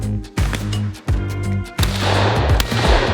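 Shotgun blasts at clay skeet targets in West Virginia, several sharp loud reports in quick succession, each with a booming tail, the last ones running together amid outdoor noise.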